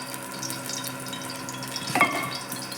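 Mustard oil heats in a pressure cooker with a steady low sizzle and faint crackle throughout, plus a brief clatter of a utensil near the end.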